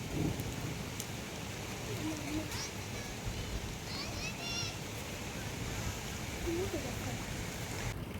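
Steady rain in a Konkan village makes a soft, even hiss throughout, faint and distant, with a few thin bird chirps rising above it and a voice speaking low underneath.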